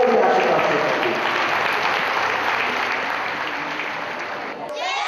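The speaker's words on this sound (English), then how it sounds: "A big round of applause for them." An audience gives the announced winners a big round of applause, loud sustained clapping from a crowd that holds steady and then fades slightly toward the end, with voices faintly underneath.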